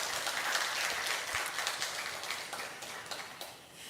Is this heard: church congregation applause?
yes